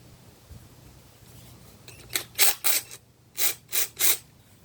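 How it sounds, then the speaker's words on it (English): Six short ratcheting clicks come from the chain tensioner of a 24-volt 4-inch mini chainsaw as it is tightened, in two close groups of three with a brief pause between them, near and fairly loud over a quiet background. "Alright, that chain needs tightened up just a little bit more."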